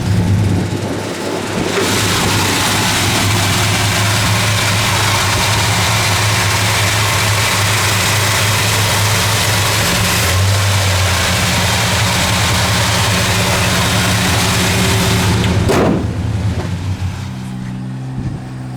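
A 1968 Dodge Charger engine idles steadily through its older exhaust, a low, even rumble that runs on at close range with a brief shift near the end.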